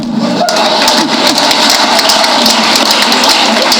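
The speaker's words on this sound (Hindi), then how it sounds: "तालियां कम।" Audience applause fills a Hindi comedy poetry event, a dense, steady crackle of many clapping hands close and loud throughout, with no pause.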